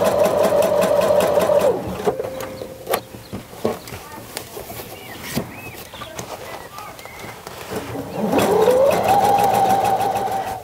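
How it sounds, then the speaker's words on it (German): A sewing machine runs in two close, steady bursts while stitching a seam on a messenger bag, with quieter handling noises and soft talk in the pause between them. "Und dann nähen, 1 cm vorm Ende des Stückes anfangen, hier rüber nähen, 1 cm vor Ende des Stückes aufhören"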